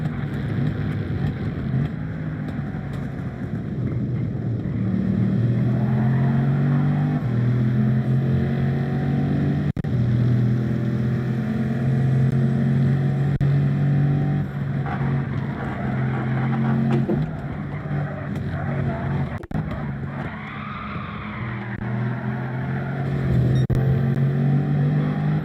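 A Mazda race car in Gran Turismo 7 racing at Watkins Glen: a sustained, loud engine drone with shifting pitch as it accelerates and changes gears, continuous and unbroken for the whole stretch, with no talking.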